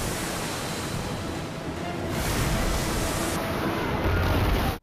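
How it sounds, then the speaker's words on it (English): Wild waves from the movie Sharknado crash into a boardwalk, a steady loud broadband roar of surf and spray with no voices, swelling slightly louder partway through. "So just wild waves are crashing his place and destroying this boardwalk."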